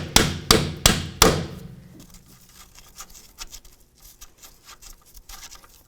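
Four sharp metallic hammer taps in quick succession on a threaded sway bar link stud of a 2001-2007 Volvo V70 XC, close and loud, followed by faint handling noises.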